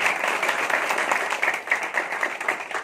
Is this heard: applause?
yes